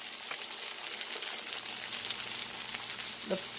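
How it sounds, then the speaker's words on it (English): Continuous crackling sizzle of food frying in about 2 tablespoons of hot oil in a wok, close and steady, with a brief scrape of stirring near the end. "You want to cook this in the oil, about 2 tablespoons of oil, in a wok"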